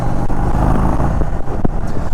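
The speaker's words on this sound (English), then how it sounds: "The exhaust sounds great." Exhaust of a 2021 Indian Chief Bobber 116 Stage 2 motorcycle with cams and intake while riding, a loud low rumble with brief dips and bursts as the throttle shifts.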